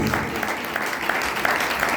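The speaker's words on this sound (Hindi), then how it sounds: "और एक ताली होनी चाहिए, एक आवाज होनी चाहिए, एक ताली, एक आवाज।" A congregation at a Christian worship service claps together in a steady, sustained wash of close, fairly loud applause rather than a single clap, with no voices standing out.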